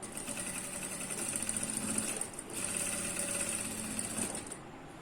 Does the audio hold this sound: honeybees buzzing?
no